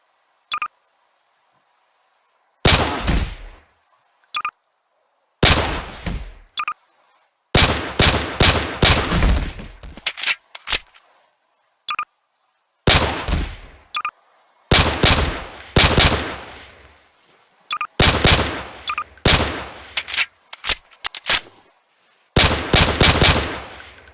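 A .45-caliber M1911 pistol fires in Garry's Mod in repeated clusters of sharp, loud shots, with brief silent gaps between the volleys and some rapid strings of shots.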